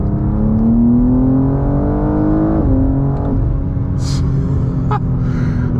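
A BMW G87 M2 accelerates in third gear at around 45 mph, its exhaust droning and rising in pitch with soft burbles, a brief higher whoosh breaking in near the end.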